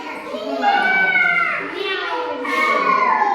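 Children imitate a cat's meow with rising and falling voiced mews, several overlapping calls in quick succession, close and lively.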